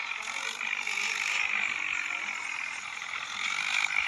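A steady mechanical rattling whir of a metal garage roller shutter rolling open in a tractor farming video game, continuous and fairly loud throughout with no talking.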